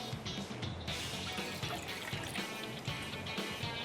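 Water poured into a saucepan to start a sugar-and-lemon syrup, a soft continuous trickling and splashing stream, fairly quiet and steady, with no talk over it.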